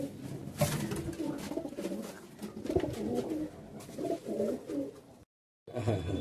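Madrasi high-flying pigeons in a loft, cooing in soft repeated throaty phrases close by, with a brief moment of silence near the end.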